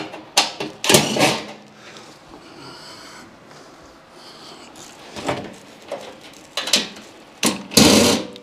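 Sheet metal screws being backed out of a dead Goodman HVAC unit's metal cabinet, several close bursts of scraping, rattling metal with quieter gaps between them and no talk.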